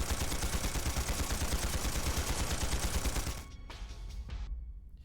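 Sustained rapid gunfire in the Trails through Daybreak video game, a dense automatic rattle for over three seconds, then a few scattered trailing shots as it cuts off, loud, with no speech.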